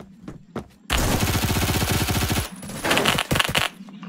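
Automatic gunfire in the video game Phantom Forces rattles in a loud, rapid burst, then a few scattered shots and a shorter second volley, close and punchy.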